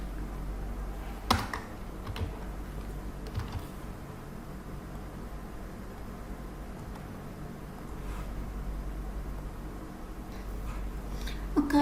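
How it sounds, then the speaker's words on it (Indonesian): Someone types a spreadsheet formula on a computer keyboard, producing soft, scattered key clicks at close range over a low background hum. "Nah saya ketikkan"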